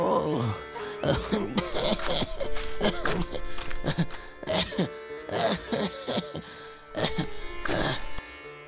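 A sick man in a Bengali animated fairy tale coughs in repeated harsh, rasping bursts that fill the scene with little pause between them.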